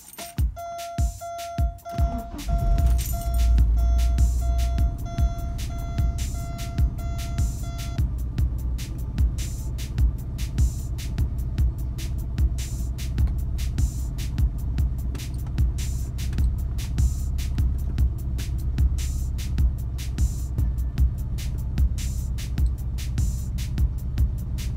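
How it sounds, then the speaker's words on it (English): A Porsche 944 engine starts and settles into a steady idle, a loud low throb with a regular pulsing clatter that continues alone after a brief chime. "let's start the car and make sure the brakes are working."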